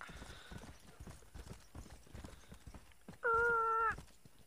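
Horse hooves clip-clop steadily through a Red Dead Redemption game scene, followed near the end by a loud, sustained whinny that rings out over the trotting.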